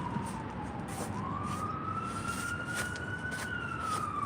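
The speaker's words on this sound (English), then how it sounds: "Sirens." Emergency vehicle sirens wail along a street at moderate distance, a steady rising and falling tone over traffic rumble with no talking.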